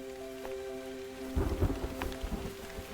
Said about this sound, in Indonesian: Udah hujan ini.